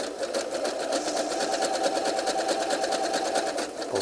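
A sewing machine stitches steadily through a crochet tote bag, its rapid, even needle clatter running continuously and close up with no talking over it.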